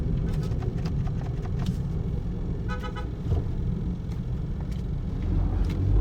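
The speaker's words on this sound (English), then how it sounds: "I'm driving right now." A car driving on the road on the way to work, with a steady low engine and road rumble inside the cabin and a few faint horn-like toots near the middle.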